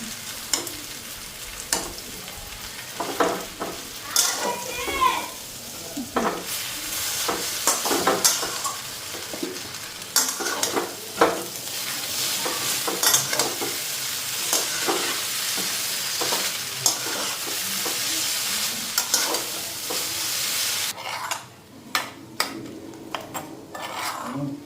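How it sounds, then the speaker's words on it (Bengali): Chow mein with potatoes and beans being stir-fried, steady sizzling with frequent scraping and clanking of a spatula against the pan, close and continuous, with a brief quieter pause near the end. "আলু আর বিনস ভাজা হয়ে গেছে, চাউমিনটা দিয়ে দিই"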